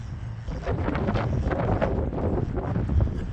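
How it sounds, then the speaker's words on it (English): Strong wind buffeting the microphone beside a running 22.5-foot diameter homebuilt wind turbine, a continuous low roaring rumble with gusty surges throughout. "It's pretty windy this morning."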